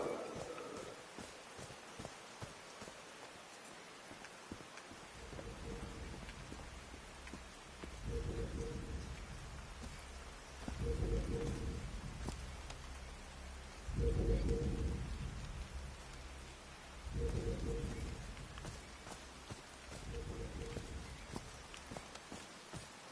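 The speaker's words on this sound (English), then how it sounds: "These drops of rain are so refreshing." Steady rain patters throughout a scene in Call of the Sea, with rumbling swells of thunder rolling in every few seconds, roughly six deep surges over the continuous downpour.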